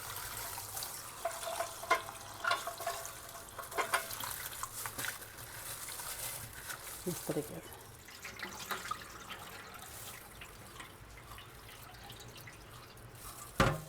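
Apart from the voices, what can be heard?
washing taro root pieces in changes of water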